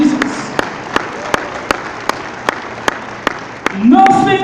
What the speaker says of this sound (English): if we clap in the house, we clap it for Jesus